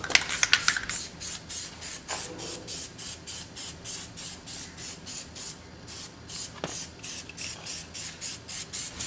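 An aerosol can sprays Plastidip onto the front lip of a 2014 Mitsubishi Ralliart in quick, regular hissing bursts, about two per second, close and loud, with no talking.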